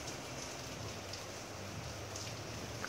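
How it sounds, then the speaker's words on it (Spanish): Steady rain falls throughout in a video game, a dense, even hiss of drops with no breaks, moderately loud and unaccompanied by speech. "Ahora mismo está lloviendo."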